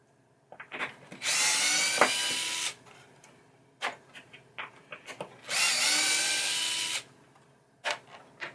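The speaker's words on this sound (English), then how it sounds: "take all these screws out for the switches for the pop bumpers" A power drill backs screws out of the pop bumper switches on a 1978 Bally Playboy pinball playfield, with two long high-pitched whirring runs, several short trigger bursts, and small clicks and clatter between them.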